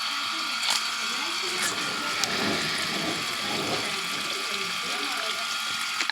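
Water running from a hose into the basin around a lemon plant in a home garden, a steady close wash of flow under a person talking.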